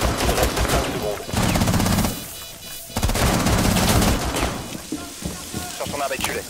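Rapid gunfire bursts in a Rainbow Six Siege esports match, loud and dense, in several volleys separated by brief lulls, with a caster talking over the shooting.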